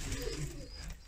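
Young pigeons under a year old coo softly inside a coop loft, a low continuous burbling that carries on steadily through the whole moment, with no voices over it.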